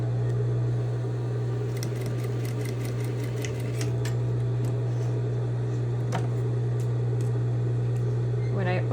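A sewing machine stitching and backstitching a diagonal seam across a fabric square while making bias tape, a loud steady motor hum with rapid needle clicks, a voice speaking over it.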